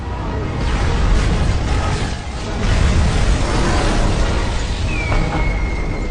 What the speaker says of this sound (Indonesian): gedung parlemen pun meledak dan hancur